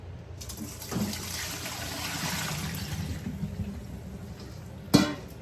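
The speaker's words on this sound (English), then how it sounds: "After 1 hour, we're gonna drain the eggplant." Water drains steadily from soaked eggplant, a continuous close trickle and splatter with one brief louder splash near the end.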